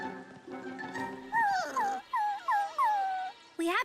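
Cartoon dogs in a Strawberry Shortcake Berry Bitty Adventures episode give a run of high, sliding whimpers and whines, loud and close, in several short bursts after a brief busy opening.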